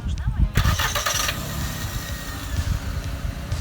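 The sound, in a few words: car engine started remotely by StarLine alarm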